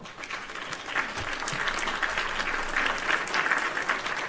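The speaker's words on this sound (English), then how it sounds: "We're all getting applause tonight." Applause sound effect from a comedy podcast, a steady wash of many hands clapping at moderate level, continuous for about four seconds with no voices.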